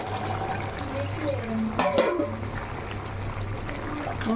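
Water being poured into a pot of mutton curry cooking on the stove, a brief splashing pour in the middle over a steady low kitchen hum, fairly faint.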